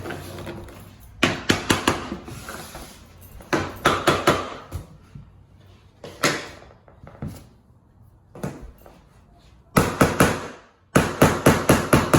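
A hammer taps Lifeproof vinyl flooring planks during installation, with sharp close knocks in quick bursts separated by quieter pauses.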